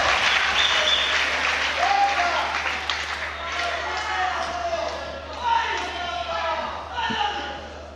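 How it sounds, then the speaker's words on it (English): A crowd at a weightlifting competition applauds and shouts encouragement, loud clapping and cheers with a commentator talking over the noise. "Well, plenty of encouragement from the crowd, as you'd expect."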